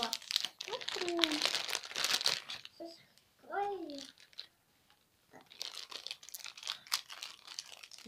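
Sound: plastic toy packet being opened

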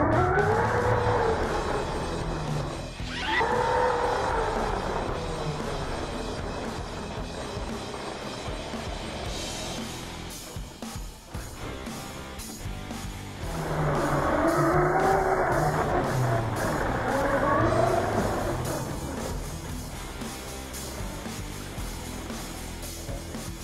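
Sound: Team Losi LMT RC truck driving on powder sand

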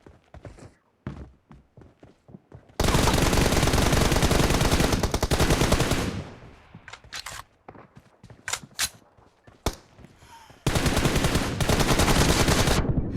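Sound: gunfire in video game PUBG

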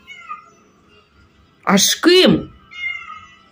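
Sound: cat meowing plaintively behind a door

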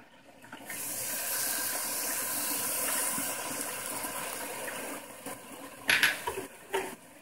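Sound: water poured into caramelizing palm sugar

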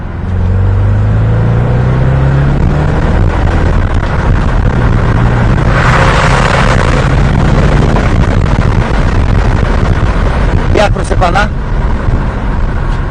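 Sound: BMW 645i E63 N62 engine exhaust in small tunnel

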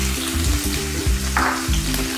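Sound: onions frying in oil with cumin

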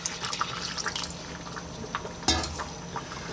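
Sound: pouring water into a pot of chicken soup

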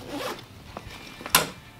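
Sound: bat bag zipper opening

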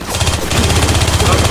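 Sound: gunfire in the video game Left 4 Dead 2

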